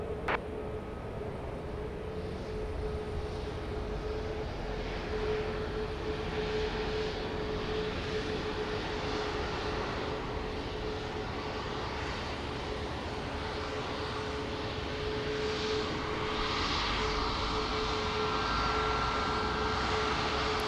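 A Southwest Boeing 737 MAX 8 jet at Dallas Love Field at night makes a steady engine drone with a faint sustained whine, moderately distant and swelling slightly near the end.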